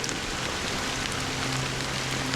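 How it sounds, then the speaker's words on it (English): Steady rain falls throughout in a Honkai Star Rail game scene, a soft continuous hiss of drops on surfaces with a faint low tonal hum underneath and no voices. "Why did this rain choose me?"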